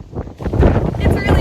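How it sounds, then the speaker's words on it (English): Gusty wind buffets the microphone in uneven bursts of low roaring noise, loud and close throughout. "It's really windy."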